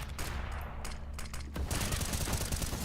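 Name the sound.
gunfire in a Counter-Strike video game match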